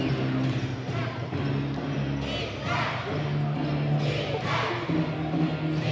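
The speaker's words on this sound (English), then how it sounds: "the crowd is chanting defense" Basketball crowd at a Toundra Montréal versus Rogues Terre-Neuve game, a steady rhythmic chant of defense filling an arena, with sneaker squeaks and ball bounces underneath.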